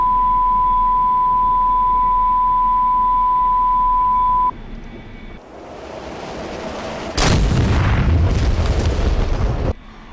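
A bomb dropped from an A-4 in the DCS flight simulator strikes its target: after a steady cockpit beep and hum, a loud, broad explosion bursts in and rumbles for a couple of seconds before cutting off.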